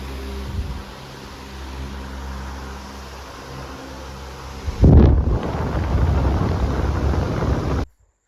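An electric fan hums steadily at low pitch, then a sudden rush of blown air buffets close up and roars until it cuts off abruptly.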